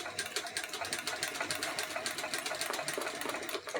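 A sewing machine stitching a rucksack seam runs in a continuous, rapid mechanical whir with an even pulsing rhythm, close and steady throughout, with no talking.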